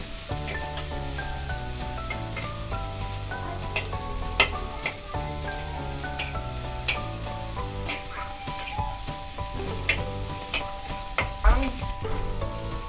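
Onions frying in a hot pan give a steady, close sizzle that holds evenly throughout, with faint stirring scrapes rising now and then and no talk over it.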